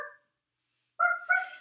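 A person imitating a dog's bark during a family yoga session: a brief yip that trails off, a pause, then two quick bark-like yelps close to the microphone, with no other talk.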